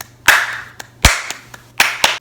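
Hands clapping a syncopated rhythm, sharp close claps in uneven groups with softer taps between them, in a quiet room with no talking.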